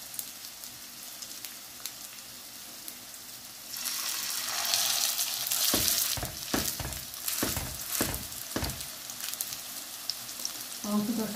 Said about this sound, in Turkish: iyice ısındığında da köftelerimizi koyacağız bakalım